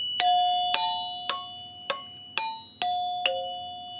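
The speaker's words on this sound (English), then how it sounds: "Pinball chimes, the original soundboard for pinball machines." Original analog pinball machine chimes ring seven times in a steady, evenly spaced sequence, each strike bright and resonant with a clean decaying tone, close and alone with no voices.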